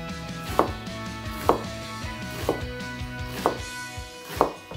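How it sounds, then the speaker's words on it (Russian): A knife chops onion finely on a board while making Japanese gyoza dumplings, producing about five evenly spaced sharp strikes over a steady background hum. "Лук нам нужно нарезать тоже мелко."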